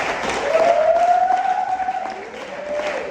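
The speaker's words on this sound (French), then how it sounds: "Je voudrais qu'on acclame encore pour l'équipe de la décoration." An audience applauding the decoration team at a church wedding gathering, a steady wash of clapping lasting a few seconds with a sustained tone running through it.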